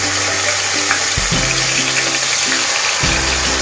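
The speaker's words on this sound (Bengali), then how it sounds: "সো গাইস আমাদের তেল গরম হয়ে গেছে, এবার আমরা একটা একটা করে স্টিক এর মধ্যে দিয়ে দিচ্ছি।" Chicken tikka skewers are lowered one by one into hot oil in a pan and fry with a loud, close, continuous sizzle, with small bursts as pieces go in and no talk.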